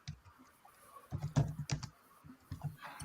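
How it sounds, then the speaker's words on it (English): Computer keyboard typing in a room, bursts of rapid, close key clicks with short pauses between them, with no talking. "typing frantically away there"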